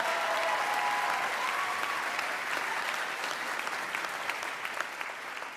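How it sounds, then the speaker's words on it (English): A steady round of applause from a crowd at a college commencement ceremony, many hands clapping at an even, moderate level, fading slightly toward the end with a faint voice beneath. "Let's give Haley another round of applause"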